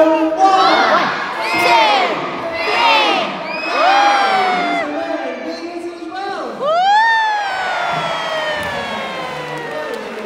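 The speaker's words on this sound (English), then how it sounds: "So we're going to shout 1, 2, 3, and then shout go, but you've all got to be as loud as you can" A loud crowd of children and adults shouts and cheers together in bursts at a sea lion display at Knowsley Safari Park, with high, siren-like rising and falling yells continuing throughout.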